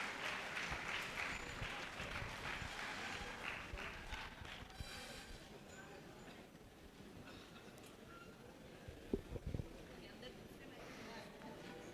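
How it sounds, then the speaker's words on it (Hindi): Applause from a convention audience after a keynote speech, a quiet, distant, steady patter of clapping that thins out toward the end, with a few sharper claps near the close. "एक तालियों के साथ थैंक यू वेरी मच।"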